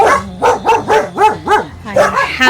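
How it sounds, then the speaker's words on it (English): Several dogs barking loudly and close by in a rural provincial yard, a rapid series of repeated barks and yips with a few whimpering tones. "I don't know if you can hear me with all the dogs barking"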